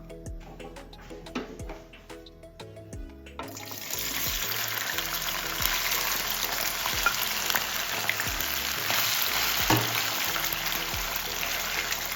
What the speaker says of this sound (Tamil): நம்ம வேக வச்சிருக்கிற சிக்கனை இந்த எண்ணெயில் போட்டு பொறிச்சு எடுத்துடலாம்